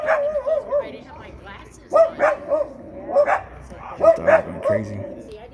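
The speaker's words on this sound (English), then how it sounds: "This dog's going crazy." A dog barks repeatedly in short bursts nearby, with yips and whimpers between barks, while people talk over it.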